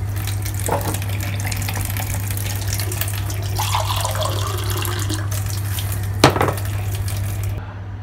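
Water runs steadily from a tap at a sink, a continuous close wash of flow with a low steady hum beneath and a brief clatter near the end.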